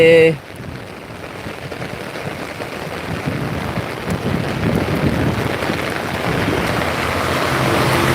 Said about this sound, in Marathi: हे बघा नदीला पूर आलेला आहे नदीला